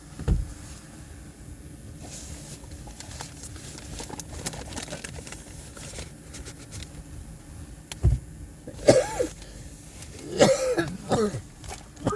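A few rough coughs and throat-clearing bursts near the end, standing out over a steady low background hum and faint rustling.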